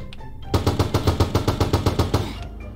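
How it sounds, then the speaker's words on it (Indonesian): Automatic gunfire in a Roblox game styled after GTA 5 during a robbery of an army vehicle: a loud, rapid burst of about a dozen evenly spaced shots lasting close to two seconds, with no voices. "Tadi siapa yang nembak-nembak nih?"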